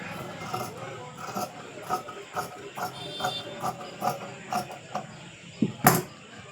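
Scissors cutting through blouse fabric, a run of regular crisp snips and creaks repeating about every half second, close and clear, ending in one louder sharp cut.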